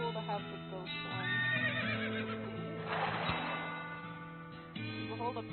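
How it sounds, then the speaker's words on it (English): A ghostly, absurdly pale horse in a video game gives a loud whinnying neigh, rising and falling over several seconds, with a second shorter whinny at the end and faint hoof clops. "Behold a pale horse, like absurdly pale."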